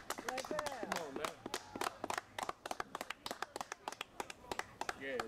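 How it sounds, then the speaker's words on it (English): Scattered claps and hand taps from a small outdoor crowd at Marvin Gaye Park, Washington, DC, loose and uneven, mixed with voices talking over them. "give him a round of applause"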